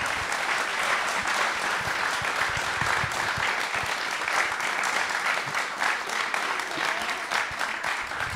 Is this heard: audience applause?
yes